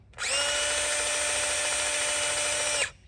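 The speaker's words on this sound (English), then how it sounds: "this thing has been ripping through this metal" DeWalt drill-driven metal shears cutting barn sheet metal whine steadily at high speed for nearly three seconds, a loud, continuous buzzing grind with sharp start and stop, no voices.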